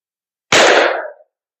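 A single loud, close shot from a braced pistol firing Buffalo Bore .45 ACP +P 255-grain hardcast rounds, a sharp crack with a short ringing decay, then silence.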